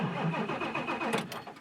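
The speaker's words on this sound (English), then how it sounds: "the engine should crank over" A 7.3 Power Stroke diesel truck engine cranks over steadily, a continuous rhythmic churning heard up close and fairly loud, with no talking.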